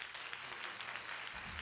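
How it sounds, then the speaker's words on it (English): A congregation at a spring church revival night claps hands in a brief, faint, steady patter that sounds distant and stays free of talk. "Would you clap your hands?"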